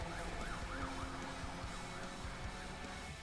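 Police car siren in Need for Speed, a wailing siren sweeping up and down in a steady repeating cycle over a continuous engine and road roar, no talking.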